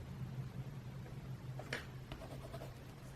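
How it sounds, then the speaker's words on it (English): A white 938 colored pencil burnishing a drawing: faint, close scratchy rubbing strokes against paper, soft and intermittent over a low background hum. "Now you want to go in with your white, which is 938. We're just going to burnish everything."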